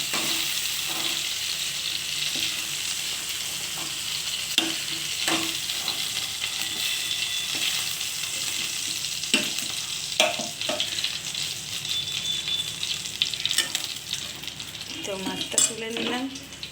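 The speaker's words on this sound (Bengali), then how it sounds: "হালকা ভাজা হয়ে গেছে বেশি ভাজছি না জাস্ট একটু নেড়ে নিয়েছি" Shrimp fry in hot oil in a pan with a steady, loud sizzle throughout, while a utensil stirs and scrapes against the pan in occasional clinks.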